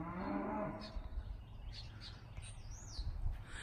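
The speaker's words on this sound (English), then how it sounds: "you gotta have the hay to feed the cows and stuff" Cows on a farm give a low, drawn-out moo, fairly distant and faint, while birds chirp and tweet now and then against steady outdoor background noise.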